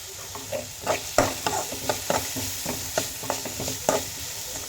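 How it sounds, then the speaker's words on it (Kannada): Salted onions for an ash gourd palya fry in a pan, with a steady sizzle under repeated scraping stirs of a spatula, close and moderately loud. "ಈರುಳ್ಳಿ ಲೈಟ್ ಗೋಲ್ಡನ್ ಕಲರ್ ಬರೋ ತನಕ ಇದನ್ನು ನಾವು ಫ್ರೈ ಮಾಡ್ಕೊಳ್ಬೇಕು"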